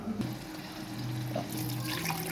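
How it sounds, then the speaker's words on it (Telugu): Coconut milk, pressed from one fresh coconut, is poured into rice in a pot to make coconut milk rice: a steady, close liquid stream lasting about two seconds, with no talking. "కొబ్బరి పాలు అండి, ఒక కొబ్బరికాయకి పాలు తీసాను, వేస్తున్నాను."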